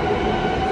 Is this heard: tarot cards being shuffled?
no